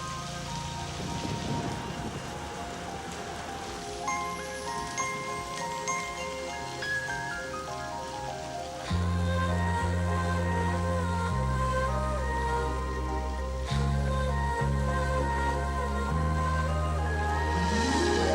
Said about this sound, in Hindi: बारिश भी शुरू हो गई